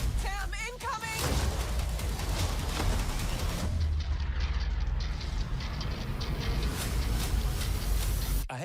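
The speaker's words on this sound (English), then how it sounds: "I hate to interrupt a kick-ass slow-mo explosion" A slow-motion movie explosion rolls on as a loud, dense, sustained roar of crackling and rumbling debris, with no speech over it.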